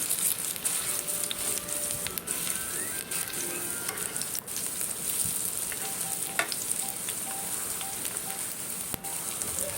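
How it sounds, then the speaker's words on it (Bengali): Ash gourd (chal kumra) leaves frying until crispy in hot oil, a steady dense sizzle and crackle running throughout with small scattered pops, close and fairly loud, no voices. "2 পিস ভালো করে ভাজবো, মশমশা করে এগুলো ভেজে নিতে হবে"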